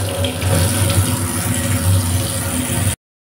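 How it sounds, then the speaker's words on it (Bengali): Tap water runs steadily over pabda fish being washed with salt in a sink, a loud continuous gushing splash that stops abruptly near the end. "এখন লবণ দিয়ে আমি ধুয়ে নেব"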